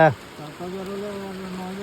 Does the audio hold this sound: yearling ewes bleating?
no